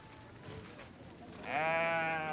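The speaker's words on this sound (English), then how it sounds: "Gorjo must sell a sheep here in Cross in order to buy the millet" A sheep at a Wodaabe herders' livestock market bleats once, a clear wavering cry rising out of faint background murmur at the end.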